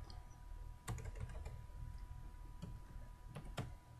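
Typing on a computer keyboard while working in Windows 8, scattered soft key clicks in short irregular bursts, faint and close over a low steady hum, with no talking.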